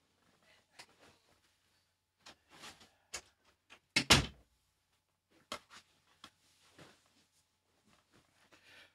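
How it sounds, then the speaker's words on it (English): Shuffling and scraping lead to a door swinging closed with a solid thud, followed by a few quieter handling sounds. "And I'll just shut the door."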